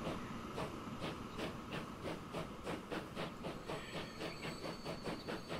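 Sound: freight train passing in video game Transport Fever 2

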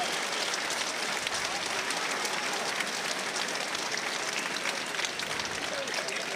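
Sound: audience in Düsseldorf applauding after the fight

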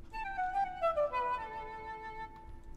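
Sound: wood flute notes from Yamaha MX-61 keyboard

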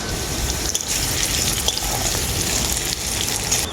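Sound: potatoes frying in oil for khichuri

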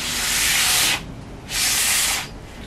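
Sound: sandpaper sanding a wooden fingerboard

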